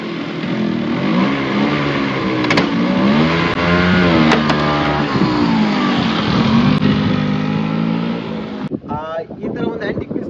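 An old Bajaj Chetak scooter engine runs and revs loudly and close by, the pitch rising and falling through repeated throttle blips before a brief sputter near the end.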